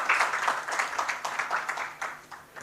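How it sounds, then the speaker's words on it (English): A conference audience gives brief, lively applause, with dense overlapping claps. "Can we give him a big round of applause?"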